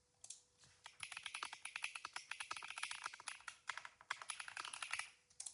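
Fingers type on a computer keyboard in a quick, uneven stream of light clicks and taps, close and fairly quiet, with short pauses between bursts and no voices.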